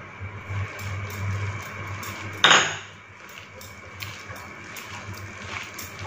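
A utensil scraping and clinking in a bowl while chicken kabab mixture is combined with besan, a continuous rough stirring texture with one sharp metallic knock, over a low hum.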